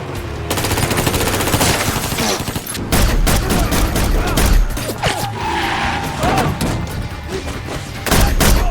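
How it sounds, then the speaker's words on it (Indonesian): Intense gunfire exchange in an action film scene, rapid bursts of automatic and single shots crackling loudly and continuously, mixed with impacts and a dense dramatic soundtrack. "Terjadilah tembak-tembakan antara mereka."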